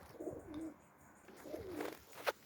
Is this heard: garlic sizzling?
no